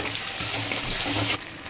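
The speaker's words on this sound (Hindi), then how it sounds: "प्याज भुनना शुरू हो गया है, इसके अंदर में कटे हुए 1 आलू है उसको डाल रही हूँ।" Onion and potato frying in a pan for Bombay-style poha, a steady close sizzle with light stirring scrapes and no talk, dropping in level near the end.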